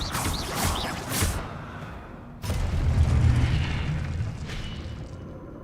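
Spell-casting effect from the Hogwarts Legacy video game: a whooshing burst followed by a deep rumbling boom that swells and lingers, loud and close with no talking.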